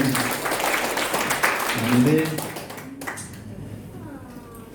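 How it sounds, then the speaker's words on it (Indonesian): Applause at a church thanksgiving service for a graduation, a burst of clapping in the room overlapping a speaker's voice, then fading out as the talk continues. "Tepuk tangan ya, luar biasa"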